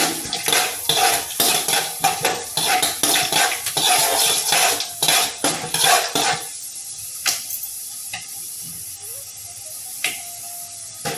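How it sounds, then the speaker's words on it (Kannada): A spoon scrapes and clatters steadily against a pan while broken wheat and lentils fry for wheat upma, a close and busy metallic stirring with a faint sizzle beneath. "ಇನ್ನೆಲ್ಲ ಒಂದು ಮೂವತ್ತು ಸೆಕೆಂಡ್ ಫ್ರೈ ಮಾಡಬೇಕು ಚೆನ್ನಾಗಿ"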